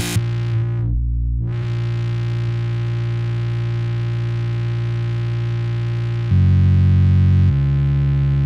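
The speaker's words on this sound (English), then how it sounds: "I'm going to do distortion" A sustained distorted synth or instrument tone drones loudly during a live performance, a brief filtered dip early on, then the pitch shifts to a heavier, louder chord near the end.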